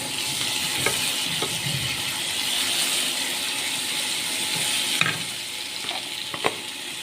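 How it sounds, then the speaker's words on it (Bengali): Chopped ginger sizzles steadily in a frying pan, a continuous hiss with a few light clinks and stirring knocks against the pan, no talk. "একটু করে আদা কুচি দিচ্ছি।"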